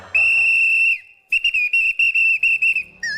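A whistle blown hard and shrill, first one long steady blast, then a run of about eight short sharp toots, ending with a brief warbling trill.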